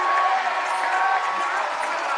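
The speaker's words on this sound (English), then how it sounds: "Crowd going nuts here as Thompson hits the three" A high school boys basketball crowd at Northrop versus Blackhawk Christian roars after a three-pointer: a loud, dense, sustained wall of cheering with a commentator talking over it.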